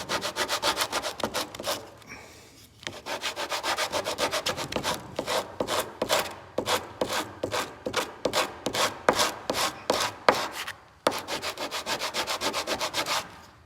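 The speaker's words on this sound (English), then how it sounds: "you can use a piece of sandpaper to do the same thing" Sandpaper is rubbed back and forth by hand along a wooden edge to round it for a pigeon perch, making rapid rhythmic rasping strokes, close and steady, with two short pauses.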